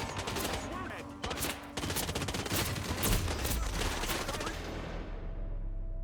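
Dense, continuous gunfire from the video game Hitman 3, with rapid overlapping shots filling the scene before the sound trails off toward the end.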